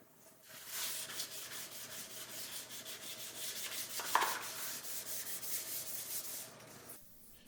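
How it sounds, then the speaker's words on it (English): Fine sandpaper rubs over the vinyl sealant coat on a Telecaster guitar body in rapid, even back-and-forth strokes, close and fairly quiet, with a brief scrape-like click midway before the strokes stop. "So now I'm just taking a fine sandpaper and just getting the little fuzzies off the vinyl sealant."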